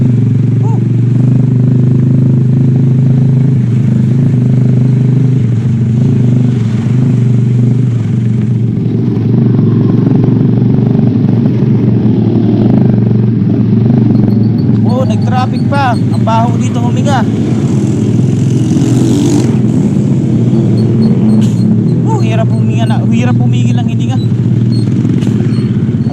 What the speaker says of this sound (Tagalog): traffic pa ako dito.